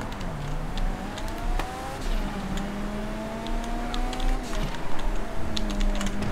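A car engine in GTA V, taken for a diesel, drones steadily with rising and falling revs throughout, fairly loud and close, with no talk over it.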